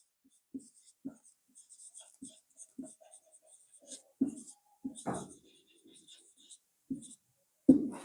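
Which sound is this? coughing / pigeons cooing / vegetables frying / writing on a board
writing on a board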